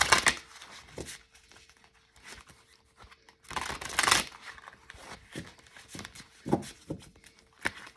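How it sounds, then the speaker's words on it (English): A giant Rider-Waite tarot card deck is shuffled by hand, with scattered papery riffles, slides and crinkles, some bursts louder and fuller, close up with no talking. "Then I'm going to shuffle it like this."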